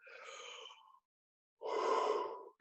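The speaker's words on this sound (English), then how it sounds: "We take a nice deep breath." Two deep breaths taken close to the mic, a long airy inhale followed after a short pause by a fuller, louder exhale, with no talk.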